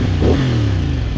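A CFMOTO 450SR motorcycle engine revs loud and close during a ride, a brief rising then falling growl under wind rush.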